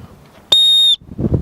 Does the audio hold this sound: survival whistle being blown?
yes